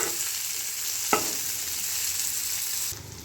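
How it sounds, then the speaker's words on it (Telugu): Capsicum and mushrooms fry in a pan, giving a continuous crackling sizzle with one brief scrape of stirring partway through, and the sizzle drops off near the end. "క్యాప్సికమ్ వేసుకొని మళ్ళీ ఇంకోసారి ఫ్రై చేసుకోవాలి"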